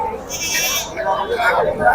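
Eight-month-old goats bleat loudly nearby at Pebbair market, wavering cries overlapping amid a busy crowd with people talking in the background.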